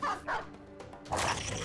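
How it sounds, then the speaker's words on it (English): Dogs barking in the video game Battle Brothers, two quick yipping barks followed by a louder burst of excited barking, close and loud with no talk. "The dogs are happy as hell right now."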